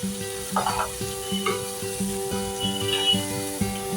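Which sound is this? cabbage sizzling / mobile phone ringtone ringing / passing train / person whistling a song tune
cabbage sizzling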